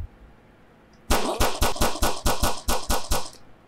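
Rapid burst of about ten video game gunshots fires in a steady rhythm, loud and close, with no talk over it.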